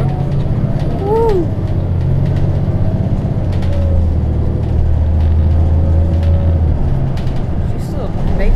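A Gillig Advantage transit bus, number 5016, rumbles along Route 47 in a steady, loud low engine drone heard from inside during the ride, with people talking over it.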